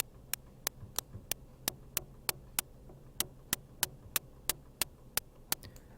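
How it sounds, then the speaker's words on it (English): A synthesizer patch with a short attack and fast decay produces a steady series of crisp, clicky ticks, about three per second, evenly spaced over a low hum with a brief pause midway. "So we're just going to get a little kind of ticking sound."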